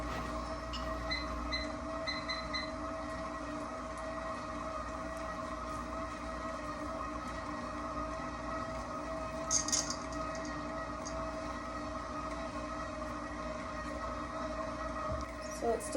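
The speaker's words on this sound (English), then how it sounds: "put it on the mixer, and it's going to mix for 5 minutes" A stand mixer kneads bread dough with a steady, even motor hum and whir that runs the whole time at moderate level, with a few faint clicks near the end.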